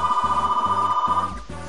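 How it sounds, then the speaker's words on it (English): A telephone rings in repeated short electronic trills, a steady pulsing bell-like tone that cuts off near the end, heard alone without speech. "Phone's ringing."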